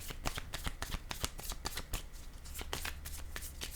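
Tarot cards flick and slap in a quick run of crisp, close papery snaps, like cards being shuffled and set down, quiet and with no one talking.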